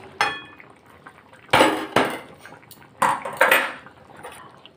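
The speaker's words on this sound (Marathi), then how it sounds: "आता आपण ढवळून बघूया।" A pot of Tisrya clam masala curry being stirred, with a spoon scraping and knocking against the pot. Five loud, close clanks come at uneven intervals over a faint bubbling background, and no one speaks.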